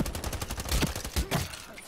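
AR-57 rifle fire in the Ironsight video game: a quick string of close, sharp shots, rattling rapidly through two seconds.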